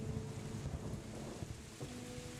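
Steady rain hisses across a wide soundscape while low thunder rumbles roll faintly underneath, a continuous storm ambience with no voices.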